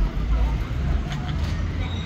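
Busy city street traffic in Nanjing, China, with service motorcycles and other vehicles passing, a steady close road rumble throughout with faint background voices.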